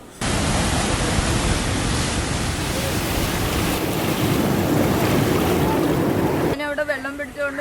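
Stormy sea waves crash at Papanasanam shore in Kollam, a loud, dense, continuous roar of surf and wind that runs for several seconds before a voice speaks near the end.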